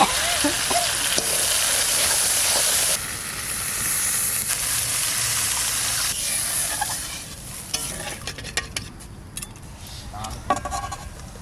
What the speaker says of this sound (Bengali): মশলা কষানো হয়ে গেছে এটা জল দেবো